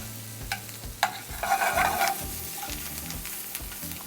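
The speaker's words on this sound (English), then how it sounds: "Just toss the potatoes, stir them up so the butter coats them evenly." Potatoes being tossed and stirred in melted garlic butter in a pan, giving a steady close sizzle broken by scraping stir strokes and soft clatters, with no talking.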